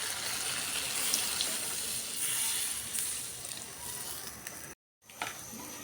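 Water poured from a tap or jug into a pan of cooking fish curry, a steady rushing splash that runs for several seconds, breaks off briefly, then resumes more faintly.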